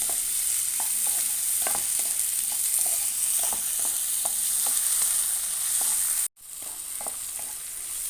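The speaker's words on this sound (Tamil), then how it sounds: "பாருங்கள், நல்லா வதங்கிடுச்சு வெங்காயம் தக்காளிலாம்." Onions and tomatoes sautéing in a pan for a dry fish fry, a steady hiss of sizzling with regular soft scrapes of stirring, briefly cut off by a short dropout before resuming.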